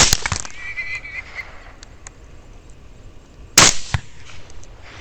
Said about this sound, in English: First two shots both connect.